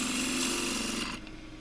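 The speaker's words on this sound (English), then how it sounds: "I'll just try a shear cut here" Shear cut with an asymmetric 3/8 spindle gouge with a steep bevel on turning camphor laurel wood: a steady, close rasping hiss runs for about a second and then cuts off, leaving faint lathe hum.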